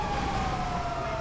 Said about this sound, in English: Sif, follow these sirens.